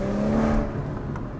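BMW M140i hatchback engine droning steadily while driving, a continuous near hum with a brief rise and fall in pitch, no talk.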